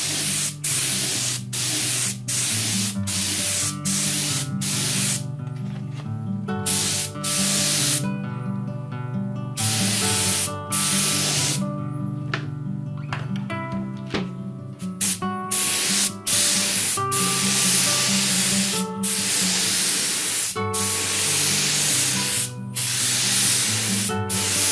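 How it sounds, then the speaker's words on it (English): A spray coating hisses continuously onto the timber of a NordMende Elektra 58 radio case during restoration, loud and close, broken by rapid short bursts and brief pauses as the spray is triggered on and off. "just spraying it on this bit of timber to see, and it's quite controllable and gives us the edge that we need there"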